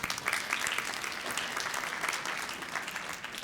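An audience at a spring town hall meeting claps steadily for several seconds, with the applause sounding soft and somewhat distant throughout.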